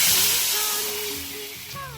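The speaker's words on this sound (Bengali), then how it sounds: "এবার জল দিয়ে দেবো।" Water poured into hot mustard oil with chilli and five-spice in a pan, a loud burst of hissing steam that slowly fades, with faint tonal whistles and a sharp click at the end.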